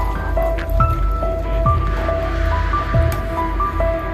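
Water is poured into a cooking pot while making kootanchoru with dal, giving splashy, gurgling liquid sounds with bubbly drips that rise and fall several times, close and fairly loud.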